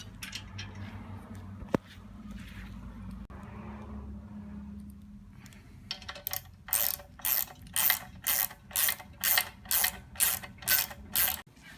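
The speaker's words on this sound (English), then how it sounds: "But the ratchet's really handy." A ratchet tightens screws on a wooden stand during assembly, its rapid pawl clicks arriving in a steady run of sharp, close bursts after a few quieter handling knocks.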